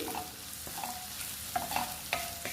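Ingredients for egg rice sizzle steadily in a pan while being stirred, with scattered clinks and scrapes of a spatula against the metal over a constant frying hiss; no voices.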